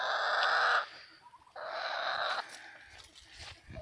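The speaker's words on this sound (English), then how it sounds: "Birds are happy." Backyard chickens and birds give loud raspy calls in two long bursts, followed by softer, scattered clucks and chirps close by, with no talking.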